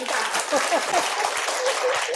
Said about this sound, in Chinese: 所以我们鼓掌一下。